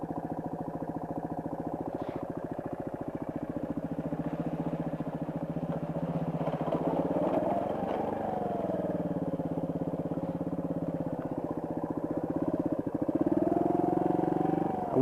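Suzuki DR200 trail motorcycle heading down a muddy hill, its single-cylinder engine chugging steadily up close, pitch dipping and rising as the throttle changes, then revving harder near the end.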